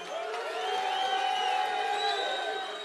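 A large outdoor crowd at a political rally in Kisumu cheers and claps continuously, a dense roar of voices and whoops filling the whole stretch with no pause.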